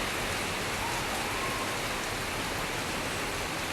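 Steady rain pours down in a dense, continuous hiss of drops, even and close, with no voices.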